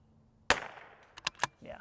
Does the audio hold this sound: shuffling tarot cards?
no